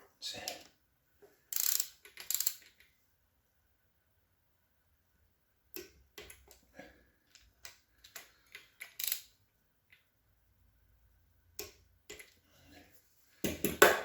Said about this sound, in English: you have two bolts. They get torqued to 120 inch-pounds